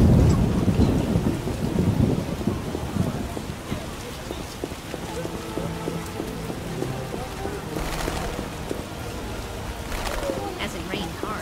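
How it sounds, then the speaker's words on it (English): Heavy rain pours down in a thunderstorm in The Witcher game, with a loud rumbling thunder roll at the start under a constant hiss of rainfall, while game characters speak and music tones sound over it. "As it rained hard and wide. Storm's coming."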